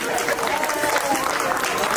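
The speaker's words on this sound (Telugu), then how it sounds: "చార్విక్ క్లాప్ కొట్టండి." Clapping from a gathered audience at a colony prize-giving during a Ganesh immersion celebration, steady scattered applause for a couple of seconds with chatter underneath.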